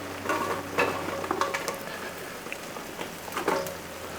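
Ground meat frying in a pan that had cooked onions and peppers, a steady close crackling sizzle with occasional louder pops and stirring scrapes, no voices.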